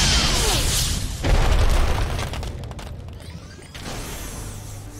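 A missile barrage special attack in the video game Costume Quest sounds as a loud, close burst of booming explosions with whooshing rushes and mechanical clatter. The blasts swell, fade, then surge again near the end.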